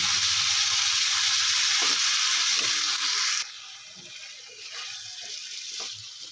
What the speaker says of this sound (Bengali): কেটে রাখা টমেটোটাও দিয়ে দিচ্ছি এবার সব কিছু একসাথে আমি ভালো করে কষিয়ে নেবো